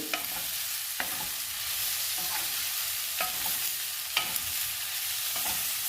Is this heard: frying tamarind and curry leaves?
yes